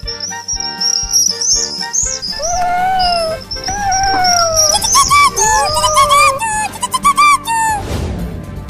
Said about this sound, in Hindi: इस पेड़ के ऊपर से चिड़िया के बच्चों के चहचहाने की आवाज आ रही है